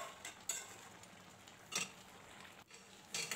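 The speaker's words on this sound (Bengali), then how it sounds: "একটু নাড়াচাড়া তো করতেই হবে, তা নাহলে কিন্তু তলে লেগে যেতে পারে" A spoon scrapes and clinks against a cooking pot while mutton curry is stirred and browned, giving a few sharp metallic knocks between quiet scraping, close and faint, with no voices.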